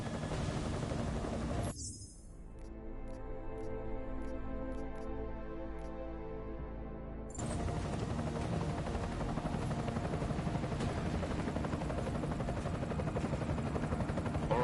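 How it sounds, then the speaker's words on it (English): An enemy helicopter in the video game Deus Ex: Mankind Divided thrums with a steady rotor drone, briefly giving way to a rhythmic ticking passage before the dense engine roar returns and holds. "Enemy helo sighted."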